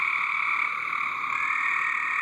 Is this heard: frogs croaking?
yes